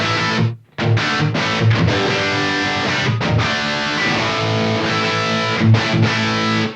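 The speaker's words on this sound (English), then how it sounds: "So that's the ACE running into a reverb." Distorted electric guitar played through a Suhr Ace amp with a short room reverb plug-in, loud and continuous with rhythmic chords, one brief pause near the start.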